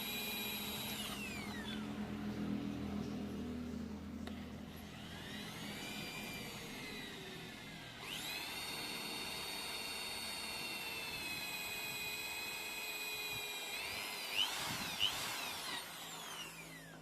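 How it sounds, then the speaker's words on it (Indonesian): A power drill bores out a broken, rusted, seized brake master cylinder bolt, with a steady whining motor that rises and falls in pitch across long runs, close and continuous. "Tuh, kita bor lagi, bablesin ke dalam"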